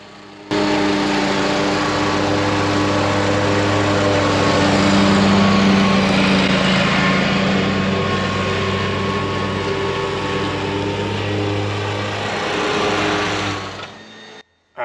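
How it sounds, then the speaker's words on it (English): A DeWalt push lawn mower runs without its bag, mulching wet grass with a loud, steady droning whine that holds for about fourteen seconds with no talk. "I'm still using the DeWalt push mower."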